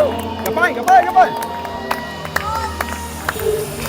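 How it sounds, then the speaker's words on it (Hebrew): Audience of around 300 clapping at a live concert as a YouTuber family is introduced, steady crowd clapping and cheering in a large hall under amplified speech and whoops. "כפיים, כפיים, כפיים!"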